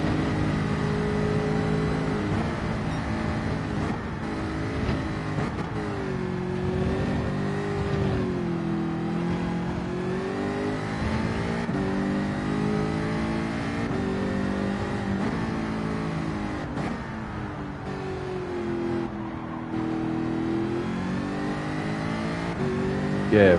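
Group 4 race cars practicing laps at Bathurst on medium tyres in a racing video game, engines droning and revving steadily throughout with shifting pitch, loud and continuous with no pauses.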